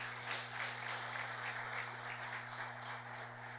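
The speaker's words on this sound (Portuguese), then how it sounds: "Aplaude ao Senhor Jesus" A church congregation applauds in praise to Jesus. Dense, continuous clapping from a large crowd fills the room at an even level, with a steady low hum underneath.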